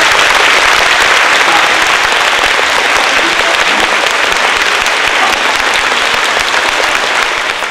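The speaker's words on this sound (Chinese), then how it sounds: "我们是不是要最热烈的掌声感谢" A large audience at a Cloud Gate dance performance in Taitung applauds Lin Hwai-min with loud, dense, sustained clapping that stays steady without a break.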